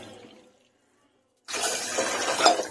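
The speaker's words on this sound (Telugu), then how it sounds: "నేను ఒక గ్లాస్ పిండి తీసుకున్నాను కాబట్టి 2 గ్లాసులు నీళ్లు పోసుకుంటున్నాను" Water is poured from a glass into a pot of heated oil and ghee to make modak dough, a sudden hissing, splashing rush after a short silence.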